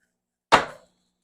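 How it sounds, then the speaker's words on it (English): A knife makes one sharp, close chop through a carrot on a cutting board, then decays quickly into silence. "We're going to cut up these carrots"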